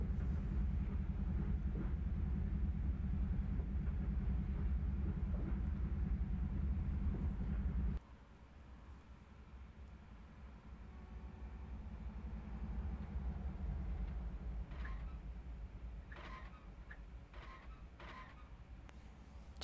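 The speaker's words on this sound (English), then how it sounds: "It's that one same squeaking sound over and over again." A steady low rumble from a train in a railway simulator game cuts out abruptly, leaving a quieter bed where the cars' short squeaks repeat several times near the end.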